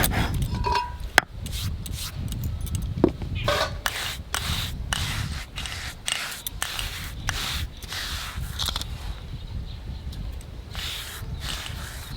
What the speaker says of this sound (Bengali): এই যে জিরাটা শুকনো খোলায় ভেজে নিয়ে এসেছি, এখন বেটে নেবো